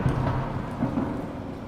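Thunder rumbles as ambience in the horror game The Outlast Trials, a steady low roll with rain-like hiss that fills the background, loud and continuous.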